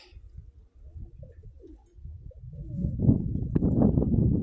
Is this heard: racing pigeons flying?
yes